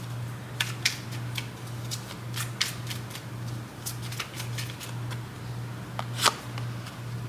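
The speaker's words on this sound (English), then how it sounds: "Let me keep shuffling." Tarot cards being shuffled by hand, a series of soft, quick papery riffles and taps at an irregular rhythm, close and fairly quiet over a steady low electrical hum.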